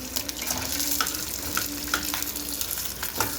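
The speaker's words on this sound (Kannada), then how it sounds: "ಒಂಚೂರು ಕರಿಬೇವು ಚಟಾಪಟ ಅಂದ ತಕ್ಷಣವೇ ಹಸಿಮೆಣಸಿನ್ಕಾಯಿ" Curry leaves and green chillies spluttering in hot oil in a pan: a dense, close sizzle with sharp crackles and pops and some stirring, with no one talking.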